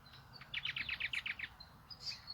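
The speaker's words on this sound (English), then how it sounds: "Much love from the birds and the land here." Small birds sing outdoors in a rapid run of about eight bright chirps, followed by a couple of softer calls, moderately close against quiet background noise.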